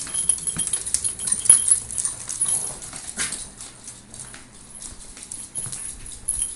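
An agitated old dog moves about indoors, its paws giving faint, scattered taps and shuffles on the floor with soft rustling in between, and no voices.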